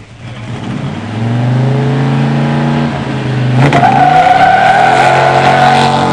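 A 1971 Dodge Demon 340 and a 1987 Buick Grand National launch side by side at a stock drag strip, engines loudly revving and rising in pitch with a burst of tire squeal, then roaring on under acceleration.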